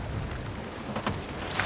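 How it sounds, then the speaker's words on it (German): Rain falls during a stormy stretch of the pirate video game Sea of Thieves, a soft continuous patter with faint low rumbling underneath and a couple of brief splashy bursts. "Es regnet ja."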